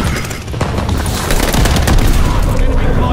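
Loud, dense gunfire and booming blasts in the shooter Call of Duty Vanguard, with a shotgun among the weapons, continuous and close throughout, with a voice talking underneath.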